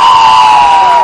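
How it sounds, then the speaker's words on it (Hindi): Crowd cheering and whooping from a studio audience at a television dance show, loud and continuous for about a second with no talk. "पहले लड़कों के लिए तालियां।"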